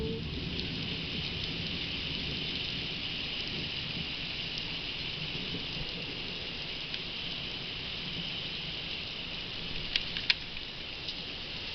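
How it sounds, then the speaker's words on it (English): Steady rain pours down on a sidewalk and road during a huge thunderstorm, a dense continuous patter heard alone with a few sharper drop hits near the end. "It's a huge thunderstorm."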